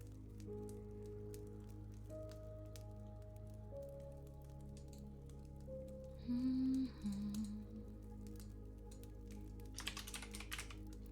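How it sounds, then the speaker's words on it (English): Rapid soft clicking of typing on a clicky computer keyboard in an ASMR setting, faint and continuous over a steady background hum with a brief louder patch of keystrokes near the end. "I like the sound of clicky, clicky, clacky keyboards."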